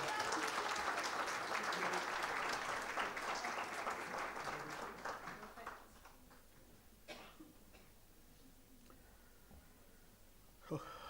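Audience at a coaching event in Delhi NCR claps loudly and densely for about five seconds, then the applause thins to a few scattered, fading claps with faint sounds in a quieter room.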